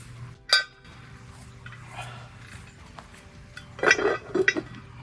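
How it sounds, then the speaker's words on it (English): A lid goes onto a camp cooking pot of beef cheeks outdoors, a brief metallic clank followed moments later by a cluster of rattling clinks. "On with the lid."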